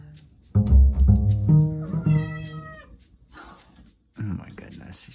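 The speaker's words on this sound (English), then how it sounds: "that's my cat" A pet cat named Gracie gives several loud, drawn-out meows close by, one after another, then a shorter cry at the end, with a person talking over and between them.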